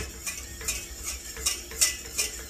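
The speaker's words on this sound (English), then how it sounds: "Now we're adding, start off with 2 cubes of butter. Start mixing it in." Cubes of butter being whisked into a beurre blanc sauce in a pan, a close series of rhythmic metallic scrapes and clinks about twice a second over a faint background hiss.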